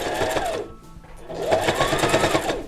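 A sewing machine stitches a fabric basket, including backstitching, in two rapid whirring bursts separated by a brief pause, close and clear with no talking.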